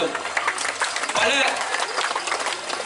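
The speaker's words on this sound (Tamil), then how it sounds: "எங்கே உற்சாகமான கரகோஷம்." Applause from an audience at a pre-school event in Dambulla, a dense, steady patter of many hands continuing for a few seconds with voices mixed in.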